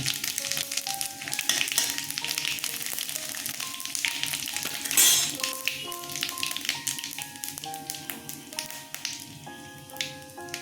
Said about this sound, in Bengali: জিরে মৌরি ফোড়নে দিলাম